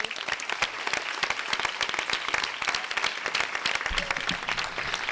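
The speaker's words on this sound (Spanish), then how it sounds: "Un aplauso." An audience at a civic event against gender violence gives a warm, fairly steady round of applause, with close individual claps standing out from the crowd.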